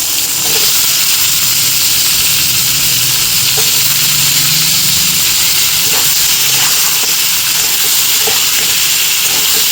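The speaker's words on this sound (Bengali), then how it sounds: "তেজপাতার মধ্যে পেঁয়াজ কুচিটা দিয়ে হালকা করে ভেজে নেবে, তারপরে দিয়ে দেবে আলুটা।" Chopped onions and potatoes fry with bay leaf in oil in a pan, a loud continuous sizzle and hiss with a few faint stirring clicks, close by and without speech.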